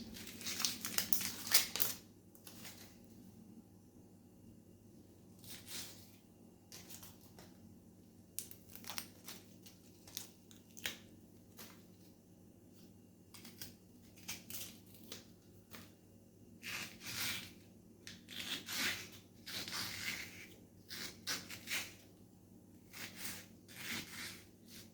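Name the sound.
cutting onions, green chillies and ginger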